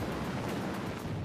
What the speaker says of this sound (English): As the cofferdam crumbles, it unleashes the water stored behind it